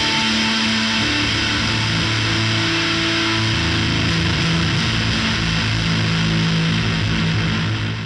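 An electric guitar runs through stacked fuzz pedals, producing a thick, saturated, sustained roar with shifting low notes across the whole stretch, loud and dense with no talking.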